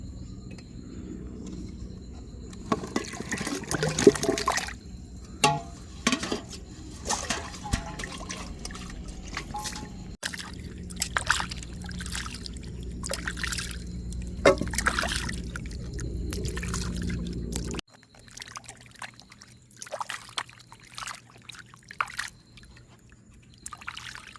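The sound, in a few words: water poured over cassava tubers while washing them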